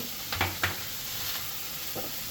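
Water splashes into hot frying masala of garlic and onion in a pan for a rohu fish curry, giving a couple of sharp bursts over a steady sizzle, then settling into a quieter hiss.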